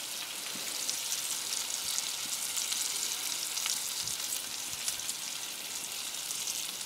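Pork and fillet steak roll searing in a hot pan with batter and garlic, giving a steady close sizzle and frying hiss with scattered small pops, no voices.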